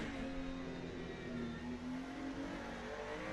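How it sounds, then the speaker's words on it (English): Ferrari V6 race car engine in the Le Mans Ultimate racing game, a steady sustained drone at constant loudness throughout with no talk over it. "as you hear a little bit of the V6 from this Ferrari"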